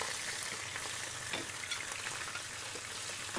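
Chicken coated only in salt fries in a pan with browned onions, a steady loud hiss of hot oil with faint stirring scrapes throughout.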